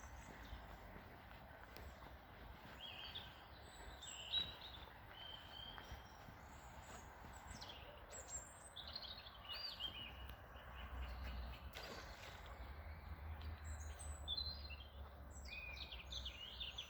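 A small bird sings outdoors in spring, its faint, high chirps and short phrases repeating over a low, steady rumble in the background.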